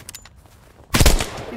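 Gunfire in the Dread Hunger video game, a sudden loud burst of shots erupting after quieter background sounds and ringing on briefly.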